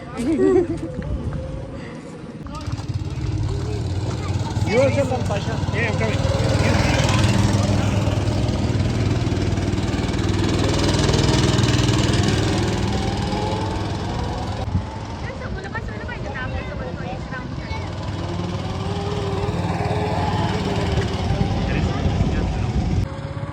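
A go-kart engine at a picnic track drones steadily, rising and falling as the kart races around, with people talking over the loud motor throughout.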